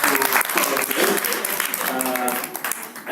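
A training class for HR certified auditors claps together for their batch, a brief, steady burst of mid-sized group applause filling the room from start to finish.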